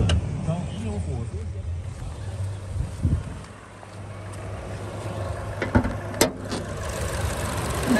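Steady low idle of a 2016 Buick Encore's 1.4-liter engine with the hood open, a constant close hum with a few light knocks and ticks, while someone speaks over it at moments.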